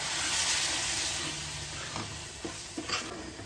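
Milk poured bit by bit into a besan halwa mixture on a low flame, bubbling and sizzling steadily, with a few soft stirring knocks near the end.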